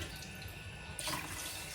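Tap water runs into a pot of six glasses of rice being prepared for cooking, a steady close splashing stream that swells louder about halfway through, with no talking.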